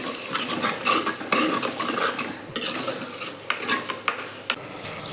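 Garlic being stirred and sautéed in a clay pot for Tamil dry fish curry, with a spoon scraping and clinking against the pot over a soft sizzle, close and steady.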